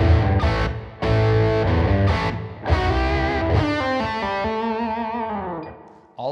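A slow, heavily distorted electric guitar riff from the first half of a rock riff, full of string bends and vibrato, played loud and alone with sustained notes ringing into a fading tail.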